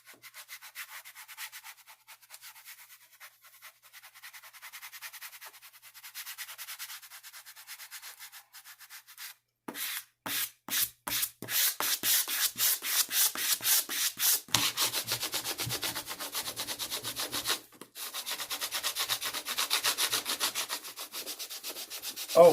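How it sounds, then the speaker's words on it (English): A vinyl decal being squeegeed onto a surface, quiet scraping at first, then a run of rapid rhythmic rubbing strokes growing louder and closer, with brief pauses between passes and no talking. "Then I'm going to lay it down slowly and squeegee as I'm doing it."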